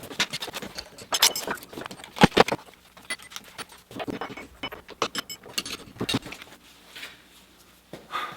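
An attachment on an Arbortech power carving unit is swapped by hand, giving close, irregular clicks, rattles and metallic handling knocks in scattered bursts with short quiet gaps between them.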